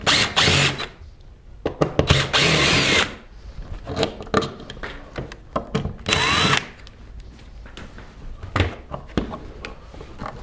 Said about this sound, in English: first thing we're going to do is unscrew the outlet.